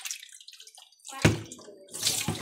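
Water is poured into a cooking pot in a home kitchen, a short gushing splash that swells in two bursts over the last second and a half, fairly close, with no talking.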